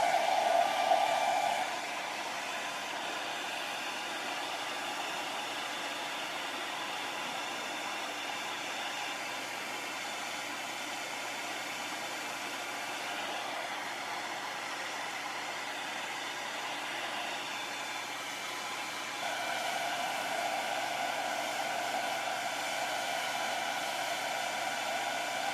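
A hair dryer blows steadily on a mascara tube to heat it, a constant close whooshing hum that runs the whole time with a slight shift partway through and no talking.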